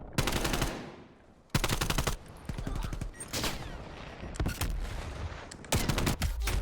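Rapid automatic gunfire in the shooter game Black Ops Cold War, fired blind: several loud, dense bursts separated by short pauses, with quieter rattling shots between them.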